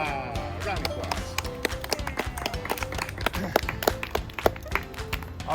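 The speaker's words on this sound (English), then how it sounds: "Round of applause." Workshop participants break into applause in a room, a dense burst of many hands clapping close by, with voices and laughter mixed in.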